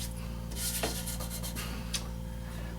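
Steady rubbing and sanding while an ankle-foot orthosis is polished and touched up, a continuous abrasive hiss with a few brief louder strokes over a constant machine hum.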